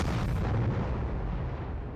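A deep, booming explosion standing in for the Big Bang, loud and broadband from the start, then rumbling and slowly fading over two seconds with no voices.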